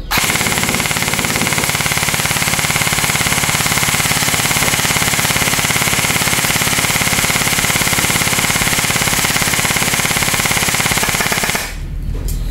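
An HK airsoft gun fires continuously on full auto, a rapid, loud, close rattle of shots sustained for about eleven seconds before stopping.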